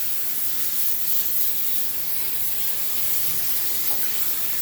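Steady broadband spray hissing as water washes down the oily engine bay of a 1974 AMC Javelin with a bad oil pan leak, continuous and fairly close throughout with no talking.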